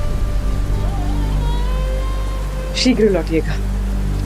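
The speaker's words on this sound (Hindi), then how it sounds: "वर्षा तो थमने दीजिए।" Steady rain falls in a dramatized mythological scene, a constant hiss heard throughout, while a voice speaks briefly over it near the end.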